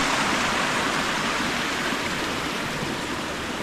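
A forest stream fed by waterfalls rushes steadily along a trekking trail in Andharban Forest, Maharashtra, a loud, even broadband roar with no talk.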